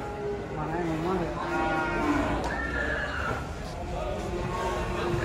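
Cattle lowing at a crowded livestock market, several long moos close by over a busy background of voices and chatter.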